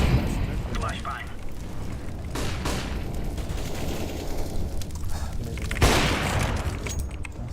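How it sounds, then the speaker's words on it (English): Grenades go off in Counter-Strike amid steady gunfire, with sharp blasts near the two-and-a-half and six-second marks rising over a dense bed of shots, while players talk throughout. "Throwing a grenade. Grenade out. Incendiary."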